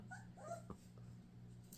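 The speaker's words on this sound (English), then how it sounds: "I'm going to show you guys a little peek at the puppies." Young puppies whimper and yip in short, high, wavering cries against a steady low hum, fairly faint and close by.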